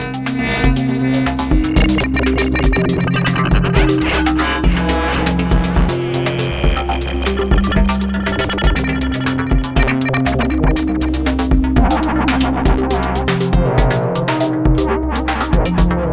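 A steady electronic tone from a modular synthesizer's voltage-controlled oscillator sine wave being modulated, with low droning layers and a rapid pulsing flutter running throughout, loud and continuous, with no voices.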